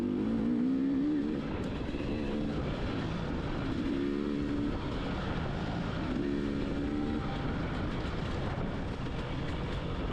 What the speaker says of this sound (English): in third gear, and the KTM just seems to pull well around. It's low RPM.